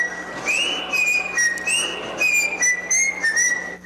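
People whistle a TV show theme song, a clear, loud melodic whistle carried in short phrases with brief pauses between notes, heard alone without talk.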